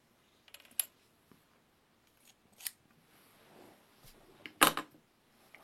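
Hobby knife cutting, several sharp, isolated scraping clicks and snips spaced a second or two apart, close and crisp, the loudest stroke near the end, with quiet gaps between.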